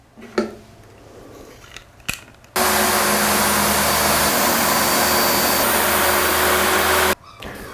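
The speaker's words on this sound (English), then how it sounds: "so I switched to a table saw" A table saw rips through a sheet of insulation board for a beehive, a loud, steady whining roar that starts abruptly, holds for about four and a half seconds, then cuts off, with quieter handling noises before it.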